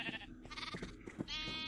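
A sheep in the video game Minecraft bleating, a single wavering baa lasting over a second, close and clear with no talk.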